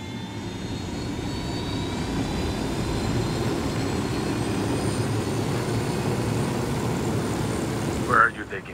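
Steady aircraft engine drone from a piloted aircraft in the video game Ghost Recon Wildlands, a continuous loud hum holding level for several seconds before a brief bump near the end, with no talk over it.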